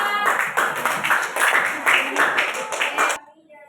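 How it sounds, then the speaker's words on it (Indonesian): Applause for a student group after its presentation in a classroom, a short burst of close, dense hand clapping for about three seconds that stops abruptly. "tepuk tangan untuk kelompok 2."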